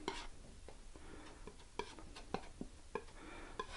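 Yellow ochre and titanium white oil paint being worked together with a palette knife or brush, giving soft scraping strokes and several sharp ticks and taps on the palette, quiet and close with no voice.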